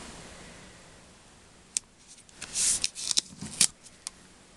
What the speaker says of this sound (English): So let's get some Sookwang tape on here and we're almost finished.